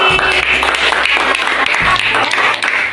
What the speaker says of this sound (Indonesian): Ini tepuk tangan juga untuk kelompok Resti.